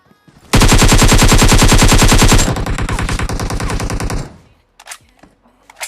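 Sustained rapid automatic fire from a P92 submachine gun in the battle royale game BGMI, loud and close, a dense burst followed by a slightly softer continued volley, then a few scattered faint clicks.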